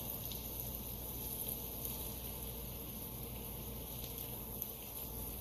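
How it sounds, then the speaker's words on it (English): A vegetable mixture with carrots sautés in butter in a pan, giving a steady, continuous close-up sizzle and crackle with no voices over it. "Can you hear that sizzle?"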